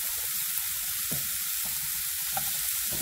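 Jicama stir-fried in a pan for bò bía filling, a loud continuous sizzle of close frying with a few soft spatula scrapes and tosses, no voices.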